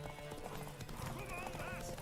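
A horse gallops in The Witcher 3, its quick clip-clop of hooves running steadily under voices and a musical game soundtrack, at moderate level throughout the short stretch.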